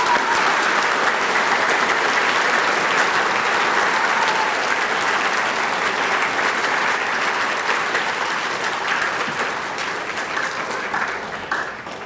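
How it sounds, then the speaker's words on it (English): A large audience at a high school Veterans Day program applauding, dense sustained clapping that holds steady and slowly tapers off near the end. "I think we need a big round of applause for those 4 people."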